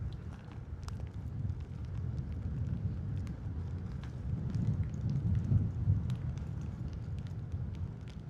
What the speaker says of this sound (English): I'm glad it's only raining lightly